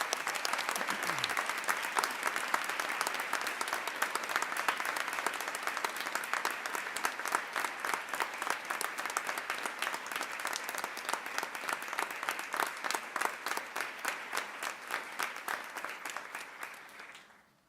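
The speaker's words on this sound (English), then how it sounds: "Ladies and gentlemen, please give a round of applause to our new MSEP partners." An audience at a ceremony gives sustained applause welcoming new MSEP partners, steady dense clapping for about sixteen seconds that thins into individual claps before fading out.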